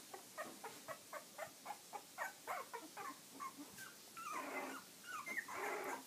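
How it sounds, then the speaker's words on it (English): Seventeen-day-old puppies growl and yip in short, repeated bursts as they play together, a few throaty whines mixed in, close and fairly quiet with no talking. "Hear a little growling going on."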